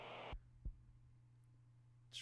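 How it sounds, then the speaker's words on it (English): A short heartbeat effect from the video game Jimmy and the Pulsating Mass: two low thumps close together near the start, then a steady low hum that runs on alone. "It's like a short kind of like heartbeat sound effect."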